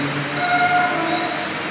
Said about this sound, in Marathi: फायनली ट्रेन आली.